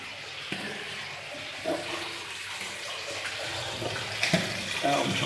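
Creek water rushes and splashes through a culvert, a continuous close wash of flowing water echoing in the enclosed pipe, with occasional footsteps and brief sounds of people moving nearby.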